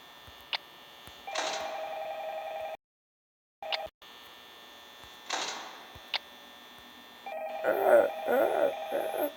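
A telephone rings in the horror video game Five Nights at Freddy's 2, sounding in repeated electronic bursts between brief gaps, with a steady mains-like hum and a louder buzzing ring near the end.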